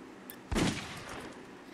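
A single gunshot is fired at a crow in The Walking Dead video game, a sharp, fairly loud crack that rolls into a short echoing decay, with quiet ambience before it.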